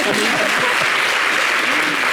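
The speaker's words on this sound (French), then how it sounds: "Applaudissez s'il vous plaît." Studio audience applause on a French TV show, a steady dense wash of clapping, with voices audible over it.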